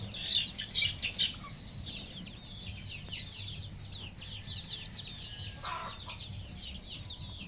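Incubated chicks, about two months old, peep and cluck softly in a rural farmyard, with a flurry of close calls at the start and then steady quieter chirping over a low background hum.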